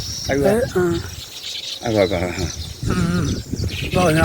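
Baya weaver birds chirp and call near their three-storey woven nest, with high, scattered calls heard beneath ongoing conversation.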